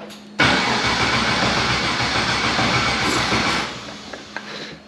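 A car engine cranks and fires up, bursting into a loud, broad rumble that holds for about three seconds before dropping to a quieter idle with a couple of small clicks.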